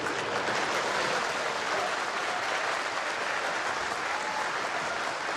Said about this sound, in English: Well, that's the biggest cheer of the day for a snooker.